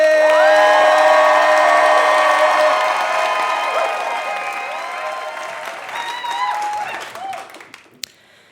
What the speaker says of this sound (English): Ladies and gentlemen, let's give a huge Beyonce-sized round of applause for Isobel Connelly!